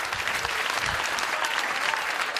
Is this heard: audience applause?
yes